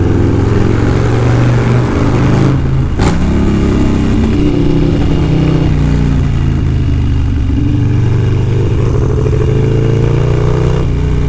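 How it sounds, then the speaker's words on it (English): A Fab 28 motorcycle engine accelerates hard on a New York City loop, its loud, steady revving roar holding close throughout with a brief sharp burst partway through. "And that's what a Fab 28 sounds like."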